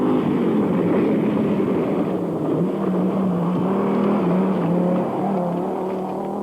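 An Audi Quattro four-wheel-drive rally car on a desert stage of the 1988 Qatar Rally gives a loud, sustained engine drone whose pitch rises and falls steadily, with no voices.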